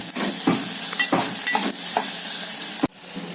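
Onions fry in a pan over medium heat, a steady close sizzle punctuated by several stirring scrapes and a sharp knock near the end.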